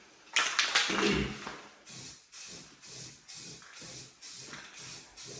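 A spray paint can coats a car hood on a Mitsubishi Eclipse project car in a series of close hissing bursts, one longer uneven spray followed by seven short regular passes with brief pauses between.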